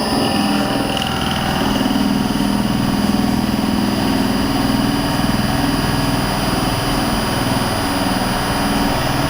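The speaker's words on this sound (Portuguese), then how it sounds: "Vou tentar frear o motor ali com a madeira." A three-phase electric motor running on a single-phase supply drones steadily and loudly while a piece of wood is pressed against it as a brake, giving a continuous buzzing hum with a faint rapid ripple.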